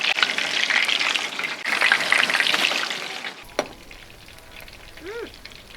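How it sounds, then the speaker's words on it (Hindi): Seekh kebabs fry in a pan with a steady, close oil sizzle that breaks off partway through, followed by a sharp clink and a faint squeak. "अब हम इसको आहिस्ता से पलट देंगे। साथ ही हम इसमें और कबाब भी डाल लेंगे।"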